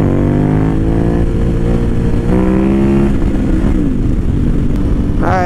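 A KTM 990 motorcycle ridden on a gravel road, with a steady, loud mid-pitched engine drone and shifting revs throughout, close to the rider, no talk over it.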